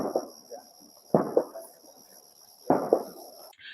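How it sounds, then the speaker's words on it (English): Sharp bangs from fireworks set off after the Fourth of July, three separate distant-sounding pops with short echoes, spaced over a few seconds against a quiet background hum. "people still shoot off fireworks, you know, for days past July 4th"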